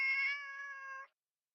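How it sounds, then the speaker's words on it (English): A single drawn-out cat meow in Shining Song Starnova, clear and close, lasting about a second before cutting off to silence. "A cat walked out of a garbage pile licking its paws."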